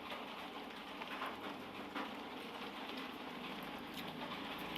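Steady rain falls outdoors, a dense even patter on surfaces with scattered louder drops, faint and continuous with no voices.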